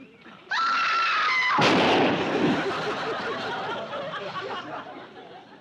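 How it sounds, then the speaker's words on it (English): A single loud gunshot cracks in a sitcom scene, a sharp sudden blast after a short high-pitched cry, followed by a decaying rumble and commotion with voices. "Step aside, lady. I'll shoot it."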